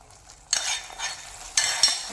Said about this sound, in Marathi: आता छान असं मिक्स करून घेऊया